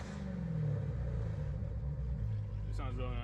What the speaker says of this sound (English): Let me give you guys a quick rev.